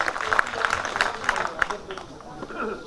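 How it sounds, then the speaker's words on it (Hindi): Clapping from an audience at a school debate competition, moderately loud with some distinct claps that soften toward the end, with faint crowd noise beneath. "एक बार फिर से जोरदार तालियां।"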